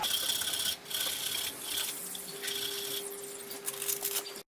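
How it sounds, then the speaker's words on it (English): Sandpaper rubs against a jarrah crochet hook spinning on a wood lathe, a soft continuous scratchy hiss with a faint motor hum beneath, brief pauses as the paper lifts. "Now I'll just move up through the grits and make it nice and smooth."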